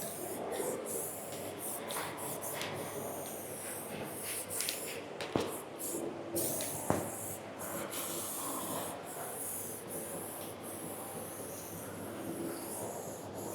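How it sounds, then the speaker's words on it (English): Matte black spray paint hisses in bursts onto the body of a BMW 1 Series M140i in a bodywork shop, a soft steady spray with a fan running and occasional clunks, no talking. "Spray some matte black around it."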